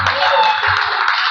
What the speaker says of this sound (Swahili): Sumpe Yesu makofi.